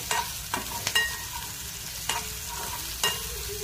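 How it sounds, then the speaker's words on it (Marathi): Salt and asafoetida being stirred in a frying pan, a spoon scraping in several distinct strokes over a soft, steady sizzle, close and moderately loud with no talking. "आता त्याला छान फिरवून घ्यायचंय"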